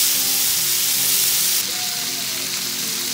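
Chicken pieces fry in hot oil for paella, a loud, steady hiss and sizzle close by that drops slightly in level partway through, then carries on evenly without talk.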